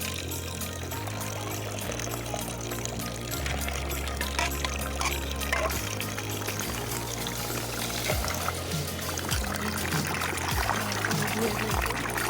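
Freshly cut climbing fish (koi) are rinsed under running water, a continuous pouring and splashing stream over a steady musical backing.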